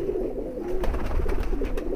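High flyer pigeons coo softly nearby in a low, repeated throaty murmur, with faint rustling and flutter behind it.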